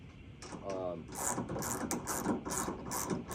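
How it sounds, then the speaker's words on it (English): A 9/16 wrench ratchets a clamp tight on a soft truck topper on a Dodge Ram, giving quick repeated clicking bursts at close range with some faint background noise. "Again, 9/16 wrench."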